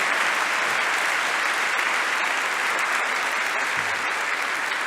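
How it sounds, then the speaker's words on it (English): Loud, continuous applause from a standing audience at a workplace recognition ceremony, many hands clapping in a thick, unbroken roar that stays level for the whole stretch. "How about a round of applause?"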